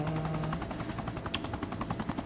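A helicopter flies in the open-world survival game LifeAfter, its rotor thumping in a quick, steady pulse with a faint tonal whine at first and no voice over it.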